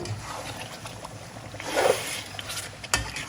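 Chicken rendang with kerisik and palm sugar is stirred in a pot, giving soft wet sloshing and scraping that swells briefly midway, with a single clink of utensil against the pot near the end.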